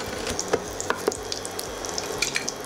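Cinnamon and whole spices frying in hot oil give a close, steady sizzle with scattered small pops and crackles, no voices over it.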